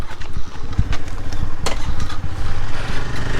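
A motorcycle engine runs close by on the road at Chittorgarh in Rajasthan, a steady loud chugging rumble throughout with a sharp click midway.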